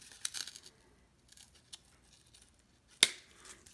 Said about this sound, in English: Now I just have to trim these little sections out, which is pretty easy.